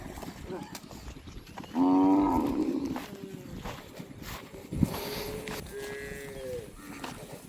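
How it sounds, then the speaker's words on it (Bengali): Cattle swimming across a river among the Padma and Jamuna chars: one loud, drawn-out moo stands out, followed by softer lowing and splashing-like noise in the background. "দেখে আসি কি করে গরু পার হয়।"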